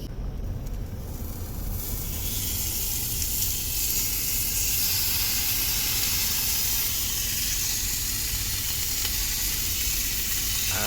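Bacon frying in a pan inside a car, giving a steady, loud sizzle and hiss that swells after the first couple of seconds and holds without talk.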